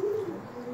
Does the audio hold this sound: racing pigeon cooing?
yes